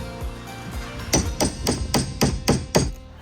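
Hammer blows driving nails into insulated 2x4 studs: seven sharp, evenly spaced strikes in a steady rhythm, close and loud, with some duller knocks and handling noise before them.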